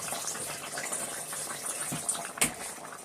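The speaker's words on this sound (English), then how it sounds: "let me go ahead and drain my beans, which I allowed to sit the whole time in cold water." Soaked black-eyed peas are drained of their cold soaking water, giving a steady rushing pour with a brief sharper splash near the end, close by with no talking.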